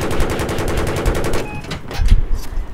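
Rapid bursts of automatic gunfire in Battlefield 3 rattle steadily for over a second during helicopter combat, followed by scattered single shots and a louder burst near the end.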